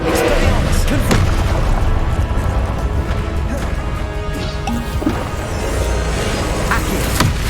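Confringo explosive spell blasts in the Hogwarts Legacy game, several loud, sharp bangs and crashes set in dense combat noise that stays continuous and busy across the stretch.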